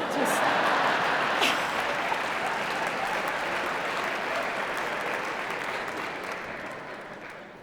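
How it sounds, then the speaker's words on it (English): A concert hall audience at a choral arts award ceremony applauds in a broad, continuous roar of many hands, steady and full before gradually fading slightly, with voices mixed in. "And then to all together do the clapping you all did"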